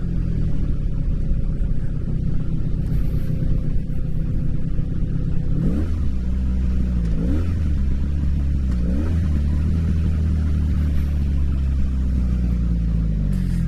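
A 1984 Honda Magna VF700C motorcycle engine rumbles steadily while riding, with several brief rising-and-falling revs as the rider works the engine braking. No voices are heard.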